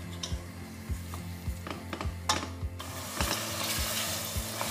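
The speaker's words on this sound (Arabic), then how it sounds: "خليه يتقلى شويه" Lamb pieces fry in a pan for Tunisian mermez, with a soft hiss that swells partway through under regular, rhythmic knocks of a utensil against the pan.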